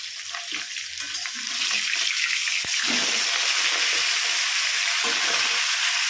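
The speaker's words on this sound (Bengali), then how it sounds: "আমি মাছের মাথাগুলো এদিকে উল্টে পাল্টে ভেজে নিয়েছি" Fish heads frying in oil for a cabbage ghonto give a steady bright sizzle that swells louder partway through, with occasional scrapes and knocks of a spatula.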